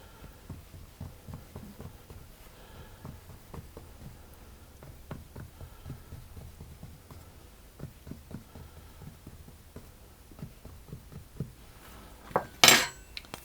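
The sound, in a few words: pricking rhubarb tart pastry surface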